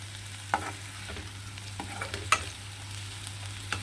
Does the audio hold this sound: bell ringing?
no